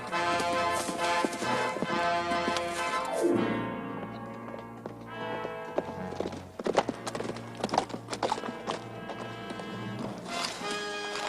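Several horses' hooves pound in a quick galloping rhythm, mixed with a loud whinny and bursts of dramatic orchestral music.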